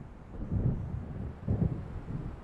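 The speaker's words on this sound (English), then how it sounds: "It seems there's a storm coming." An approaching storm in the Alan Wake video game sends low thunder rolling in two soft, distant swells over a faint windy hush.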